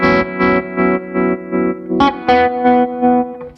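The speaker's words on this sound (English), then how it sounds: "I'm here on the amplitude trem, square wave, quite a lot of depth, mixed knob cranks." Guitar through a JAM Pedals Harmonious Monk MK2 set to amplitude tremolo with a square wave, deep depth and the mix knob cranked, chopping sustained chords into loud, evenly spaced on-off pulses at a slow, steady rate.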